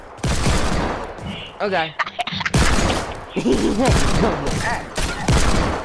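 Rapid bursts of video game gunfire from Freefall crackle in repeated volleys, loud and close, broken by short gaps while a player talks and exclaims between the shots.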